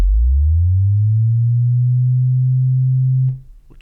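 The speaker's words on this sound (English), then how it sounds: "that one actually sounds like the charging sound of Halo, like your shield charging" A synthesized low swoop starts deep, glides upward and holds steady like a shield-charging effect, loud and clean with no talking, then cuts off with faint clicks.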